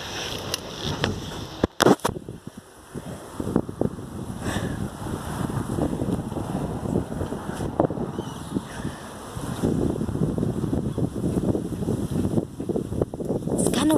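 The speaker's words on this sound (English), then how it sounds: "It's kind of windy right here" Wind gusts buffet the microphone outdoors in a steady roaring rush with occasional thumps and louder surges, with no other sound standing out.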